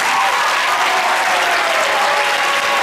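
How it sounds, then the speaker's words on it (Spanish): Dense audience applause in a hall after an announcement at a children's and youth choir concert in Torrelavega, greeting choir director Borja Ruiz. The clapping is steady and loud, with no pauses and no voices. "Un aplauso."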